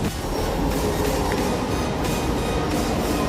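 Inside a Delhi metro train leaving Kaushambi metro station, a steady loud rumble of wheels and car body fills the scene, continuous and close with no speech.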